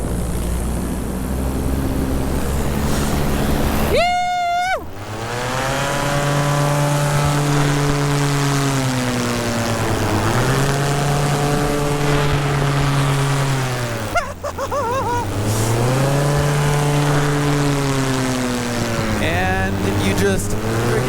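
Propeller airplane diving down into a quarry, its engine droning steadily with pitch sweeping up and down as it banks and dives, loud and close throughout, with a sharp burst of wind noise and a brief dip midway.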